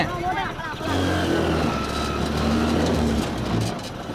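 A homemade mini auto rickshaw drives along with a steady, low, buzzing engine drone that rises slightly as it moves, while people talk over the motor.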